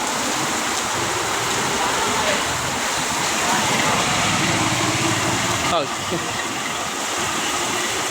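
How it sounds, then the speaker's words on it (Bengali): Steady rain pours down in a hot-weather downpour, a dense continuous hiss with a low rumble underneath, loud and unbroken throughout. "কি সুন্দর বৃষ্টি।"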